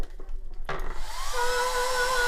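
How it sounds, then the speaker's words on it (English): A hairdryer in a cruise ship cabin switches on abruptly, a steady, loud blowing whir that keeps running, with a faint high whine riding on top. "in this drawer right here is your hairdryer"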